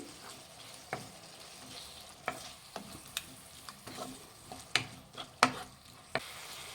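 A spoon stirs turmeric into tomatoes frying in a pan for egg kurma, a soft low sizzle broken by a dozen or so sharp scraping clicks at irregular intervals, close and fairly quiet.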